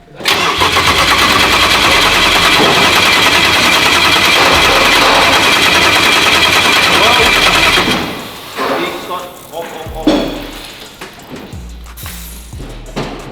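A turbocharged BMW E36 engine cranks and fires into a loud, steady, rattling idle that runs for about eight seconds, then cuts off, leaving quieter clunks and brief bursts.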